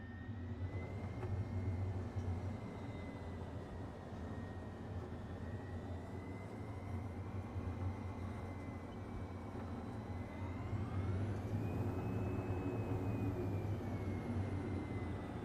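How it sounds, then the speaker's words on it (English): An airliner in Microsoft Flight Simulator applies reverse thrust, making a continuous loud engine roar with a steady whine that rises in pitch toward the end. "I'll be darned, this thing has a reverse thrust."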